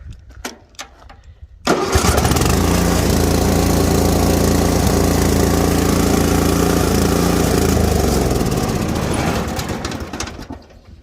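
A lawn mower engine starts up with a sudden burst, then runs loud and steady for about eight seconds before winding down. A few knocks come before it starts.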